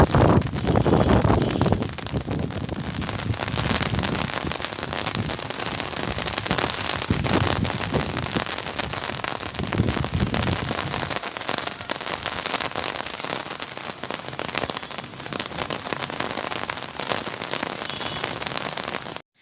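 Steady rain falls outdoors, a dense continuous hiss of drops pattering on surfaces, loud and unbroken throughout with slight swells in intensity.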